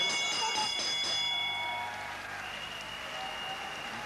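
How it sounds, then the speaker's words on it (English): Boxing ring bell rung at the end of the tenth round, several bright metallic clangs early on that ring out and fade over steady crowd noise. "as we come right down to the bell here at the end of 10"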